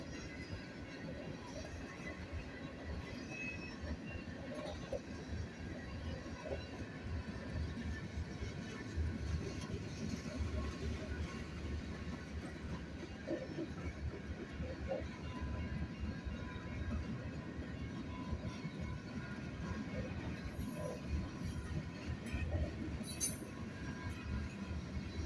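A train rolls past on the track near an excavator, a steady heavy rumble of wheels and cars with faint squeals and clatter. It stays constant and continuous throughout, with no talk over it.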